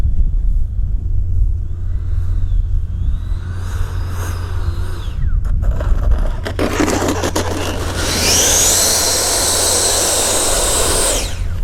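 Electric RC F-16 jet model coming in to land in windy conditions, a low wind rumble giving way to a rising, loud electric ducted-fan whine and rushing scrape as it touches down nearby.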